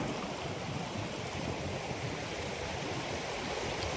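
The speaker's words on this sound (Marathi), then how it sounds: "पूर दाखवतो मागे तुम्हाला किती जबरदस्त पूर आलाय." A flooded river rushes past in a broad, steady roar of churning water, constant and unbroken, heard at a moderate distance with no voices.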